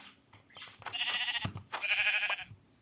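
Two loud sheep bleats from Minecraft, each about a second long with a short pause between them, up close and clear over quiet game sounds.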